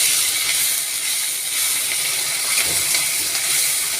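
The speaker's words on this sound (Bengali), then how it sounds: "আদা রসুনের যে পেস্টটা আছে সেটা ভালো করে ফ্রাই হয়ে যায়।" Ginger garlic paste fries in hot oil for a homemade prawn malai curry, giving off a steady, loud, even hiss that holds without a break, with no talking over it.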